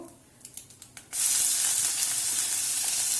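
Urad dal and grated ginger tempering in hot oil over medium heat for pomegranate lemon rice: a few soft clicks, then a sudden loud, steady sizzle that hisses on to the end.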